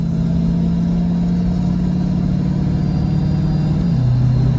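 A Ford 6R140 automatic transmission, under troubleshooting for shift flares, changes gear with no throttle applied. A steady, loud engine drone holds, then its pitch drops near the end as the shift happens.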